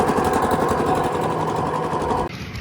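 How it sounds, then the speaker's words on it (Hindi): A tubewell pump motor runs with a steady, loud mechanical drone and a fast vibrating buzz that holds for about two seconds, then drops off abruptly, leaving a quieter hum. "अब ट्यूबवेल चलना स्टार्ट हुआ है"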